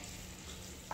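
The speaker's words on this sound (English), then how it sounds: "Now we just wanna stir it." A potato, sausage and pepper bake just out of the oven is stirred in its pan, a steady scraping, sizzling texture running throughout with a slightly louder scrape at the very end.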